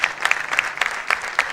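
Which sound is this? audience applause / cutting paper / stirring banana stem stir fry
audience applause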